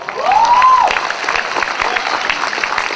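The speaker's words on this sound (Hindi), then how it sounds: "ये कमजोर तालियां हैं," Audience at a Hindi poetry recital in Delhi bursting into dense clapping that swells then continues steadily, with a whistle and a few voices mixed in.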